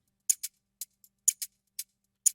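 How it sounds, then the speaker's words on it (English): Loose shakers in an orchestral downtempo percussion layer, alone and fairly quiet, giving crisp short rattling bursts in a loose repeating pattern of paired and single hits. "Then some loose shakers."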